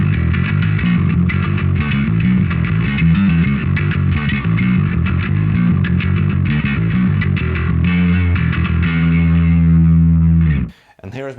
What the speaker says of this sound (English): Here's what the distortion tone sounds like.